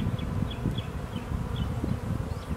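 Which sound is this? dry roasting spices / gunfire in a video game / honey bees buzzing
honey bees buzzing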